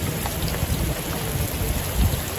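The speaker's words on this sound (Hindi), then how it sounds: "एक घंटे से बारिश हो रही है और इतने खतरनाक तरीके से" Heavy rain pouring down in a village after a hailstorm, a loud, dense roar of drops on surfaces with a few stronger splashes, continuous and close.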